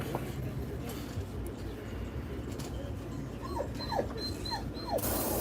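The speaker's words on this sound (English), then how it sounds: "My dog's crying. That means he wants to go inside." A dog whimpers and cries in several short rising whines, moderately close, over a low background hum with faint mechanical clicks.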